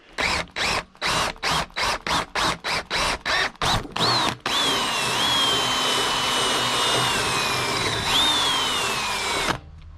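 A power drill bores into a Duke #3 trap, first with a rapid run of about a dozen short trigger bursts, then with one sustained high whine lasting about five seconds before it stops.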